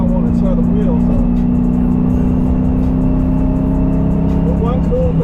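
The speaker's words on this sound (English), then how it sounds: "You can just rev this up so much higher than you can a Fox body." A 1996 Ford DOHC 4.6 V8 holds a loud, steady rumbling drone close by, the engine running continuously without distinct rev peaks.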